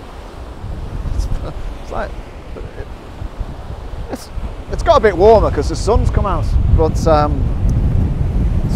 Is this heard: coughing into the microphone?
no